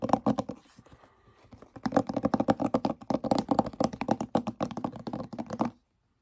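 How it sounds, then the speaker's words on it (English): A gold-trimmed hardback copy of The U.S. Constitution and Other Writings handled up close, with pages riffled in quick crisp flutters and taps, a brief lull, then a longer burst before it stops abruptly. "This book makes a nice noise, and it has the gold trim on the side."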